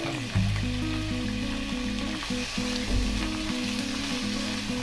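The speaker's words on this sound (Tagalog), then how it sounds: "isunod na natin igisa yung chicken" Chicken sautés in a pan for a homemade pancit canton. A dense, steady sizzle runs throughout over a low, droning tonal background, with faint stirring movements.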